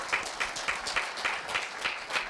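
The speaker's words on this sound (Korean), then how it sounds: "박대현 학생에게 힘찬 박수 부탁드립니다" Audience applause for a student speaker at a middle school speech festival comes as an even, rhythmic series of claps at a steady, moderate level.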